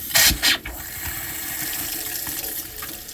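Water runs from a camper's sink faucet after a few sharp clunks as the handle is turned, then settles into a steady, close, even hiss.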